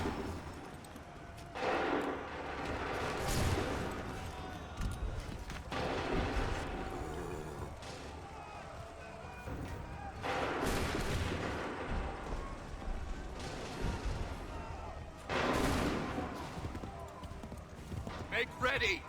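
Musket volleys boom through a battle scene in the video game Assassin's Creed 3, with several heavy bursts spaced a few seconds apart over constant rumble, horse hooves and shouted voices.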